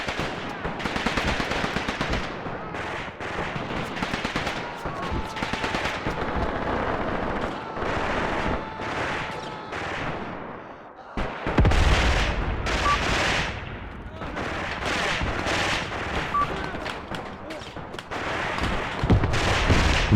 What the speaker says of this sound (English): Mortars hitting them.